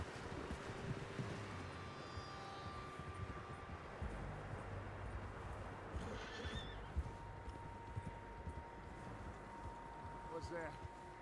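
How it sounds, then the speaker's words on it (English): Several horses in a video game neigh and whinny over steady hoof clip-clop, with wind rushing throughout; a couple of sharp whinnies cut through midway and near the end, and voices talk over the scene. "Horses, quite a few of them."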